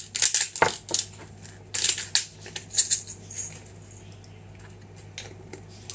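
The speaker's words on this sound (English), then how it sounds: "need to be ground finer than this, so grind a bit in" Spices being ground in a grinder pot give bursts of crunchy, crackling grinding in several short rounds, close and fairly loud, with quieter pauses between them and no talking.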